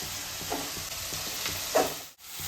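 Mint and coriander leaves fry in a pan with a steady close sizzle, broken by soft rhythmic scrapes of a spoon stirring and a brief drop near the end.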